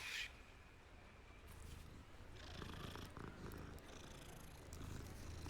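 A cat in the Hogwarts Legacy game purrs, a soft, close, continuous rumble in steady rhythm after a brief bright sound at the start.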